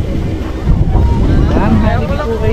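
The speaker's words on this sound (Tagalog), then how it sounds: "Biglang humangin na napakalakas, tuloy-tuloy yung hangin." Strong gusting wind buffeting the microphone beside a river, a loud low rumble that swells partway through, with a voice speaking over the roar.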